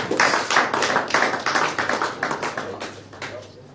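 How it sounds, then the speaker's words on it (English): Audience applause at an Institute of Business Diplomacy investiture and induction ceremony, a dense burst of clapping that rises quickly and then gradually thins and fades over a few seconds. "Give him a resounding round of applause."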